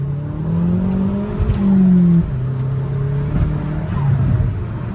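A car engine fitted with a hybrid turbocharger revving and pulling hard through rising pitch sweeps, loud and close, with a gear change partway and steady road roar.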